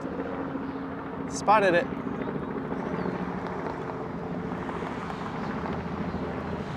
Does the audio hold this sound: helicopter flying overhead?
yes